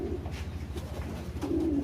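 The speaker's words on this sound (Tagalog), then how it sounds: "Napaka-amo nitong kalapati natin na to." A pet pigeon hen coos in low, soft, repeated throaty notes, close and clear over faint background noise.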